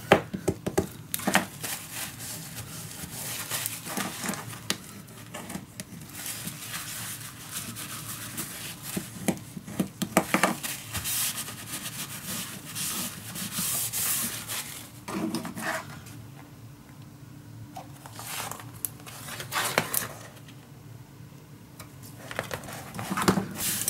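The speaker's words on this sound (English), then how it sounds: "start in the middle, work your way out, and burnish it down." Paper being burnished down by hand on a steampunk Christmas craft project, heard as soft, uneven rubbing and scraping strokes with occasional light taps, close and fairly quiet throughout.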